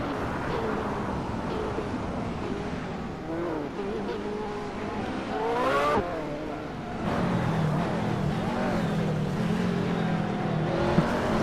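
Two McLaren race cars dueling in the Hot Wheels video game, with engines droning and pitching up and down through steady acceleration, plus brief tire squeal and a continuous dense racing roar.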